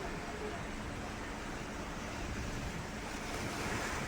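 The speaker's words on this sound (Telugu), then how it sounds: "ఆ అల్ల సౌండ్ వింటేనే భయం వేస్తుంది." Ocean waves crash against large rocks at Uppada beach, producing a continuous, loud roar of surf mixed with wind buffeting, with no break in the churning water.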